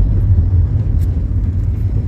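Jeep ride heading to a forest safari at Jaldapara, heard from inside as a loud, steady low engine and road rumble with no voices.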